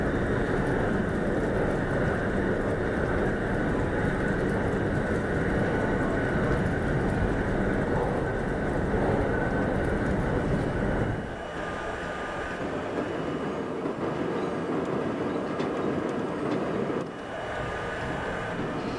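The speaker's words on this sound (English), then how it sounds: "I want to hear the sound effect of the howl through the tunnel." B line subway train running through a tunnel, with a loud, continuous roaring howl that drops abruptly about two thirds through and then continues more softly.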